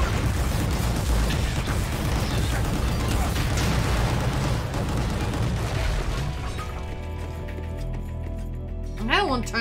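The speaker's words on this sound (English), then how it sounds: "It's like all the explosions." Explosions and gunfire from the video game Gun Grave G.O.R.E., a dense, loud rumble of booms and bursts for about six seconds that thins out, with a voice talking over the action.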